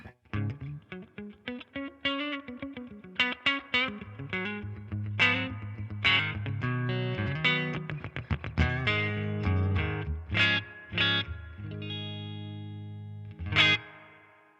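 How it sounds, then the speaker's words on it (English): Electric guitar played through a Marshall DSL15C 15-watt combo with reverb turned to maximum, distorted chords and lead lines trailing long washy decays, with a final chord fading out. "And then reverb all the way up to maximum."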